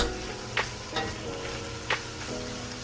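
Tadka for dhaba-style Punjabi bhindi masala sizzling in a pan, a constant close hiss of hot oil with a few brief clinks of a spoon stirring, no voices.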